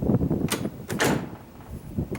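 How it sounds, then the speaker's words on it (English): A vehicle's front door with a bad hinge latches with a couple of sharp thuds and then springs back up, the clunks loud and close in a quiet setting. "Front door, it latches, but it jumps up."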